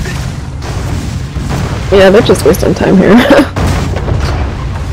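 Cannon fire during a castle siege in the ArcheAge online game: heavy low booms and rumbling under a voice, which talks briefly over the steady battle din.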